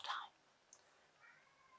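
A cat gives a brief, faint meow in the background of a quiet room, followed by a thin, drawn-out higher cry, both distant and soft against near silence.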